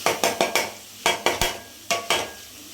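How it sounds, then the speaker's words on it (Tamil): Mutton with chilli powder is sautéed in a pot, a spoon striking and scraping the metal in sharp, evenly spaced knocks, close and clear, with a soft sizzle between the strokes and no talking. "இப்போ இது பச்சை வாசனை போகிற வரைக்கும் நல்லா வதக்கணும்"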